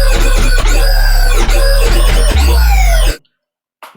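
Comb-style growl bass from the Sytrus FM synth with its pitch shape turned off, a loud, gritty, wobbling tone with rhythmic formant sweeps and heavy low end, ending abruptly into silence.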